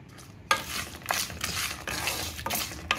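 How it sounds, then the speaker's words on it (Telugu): Mustard seeds, dried chillies and peanuts fry in a pan for pulihora, a close sizzle broken by repeated scraping strokes of a spatula against the metal pan. "ఆవాలు, ఎండుమిర్చి, పల్లీలు వేసానండి. ఇవన్నీ బాగా వేయించుకోవాలి."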